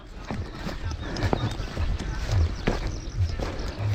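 Hooves pound in an uneven galloping rhythm as three racing water buffalo run past, with a crowd talking and shouting throughout.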